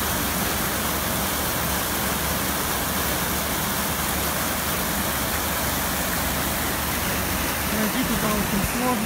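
Flood water rushing like a river through the Arcadia beach area of Odessa during a heavy flood, a loud, steady roar of broadband noise throughout with no pauses.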